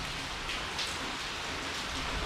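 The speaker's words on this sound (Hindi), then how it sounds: "बारिश का मज़ा ही कुछ अलग ही रहता है" Steady rain falling on surfaces, a dense even hiss of drops close by with no pauses, continuous and fairly loud throughout.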